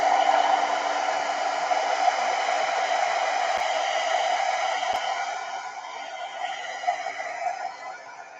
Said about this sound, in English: This is going to be a little loud. I'm going to go ahead and work on drying this a little bit.